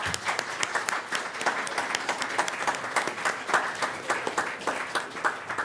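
Audience applause at a school board meeting, steady sustained clapping from many hands throughout, moderately loud and unbroken.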